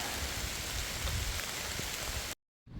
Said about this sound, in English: the weather done turned pretty nasty, and I don't particularly like staying out in the rain like that